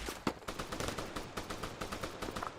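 Rapid bursts of automatic gunfire in the Arma military shooter, a close, dense string of sharp shots with a few heavier reports, continuous across the moment with no talk.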